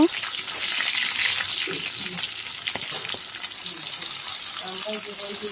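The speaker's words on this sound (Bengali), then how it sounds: "মাছটা ভালো করে লাল করে ভেজে নেব" Mirga fish pieces frying in hot oil, with a busy bubbling sizzle, some splashy crackles and light knocks of a utensil; a few faint voiced sounds surface near the end.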